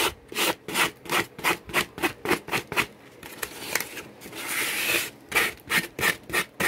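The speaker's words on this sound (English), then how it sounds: "I'm going to sand around the sides here, get it a little bit smooth before I start painting." Sandpaper is rubbed back and forth along the sides of a plaster belly cast in quick, regular rasping strokes, one brief steadier scrub midway, close and clear with no talk.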